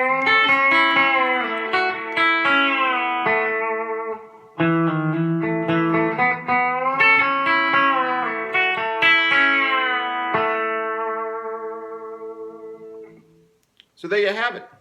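A B-bender guitar plays the Mooney 2 lick as a run of clean, ringing picked notes with pitch bends, close and loud. A short gap splits the phrase, the notes sustain and fade, and a brief burst of sound closes the clip.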